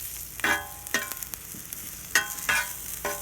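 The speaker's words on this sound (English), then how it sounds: "they're kind of sizzling down here to the side in the bacon grease" Sliced mushrooms sizzle and fry in bacon grease in a pan, with bursts of crackling and the scrape of a stirring utensil at irregular intervals, close up.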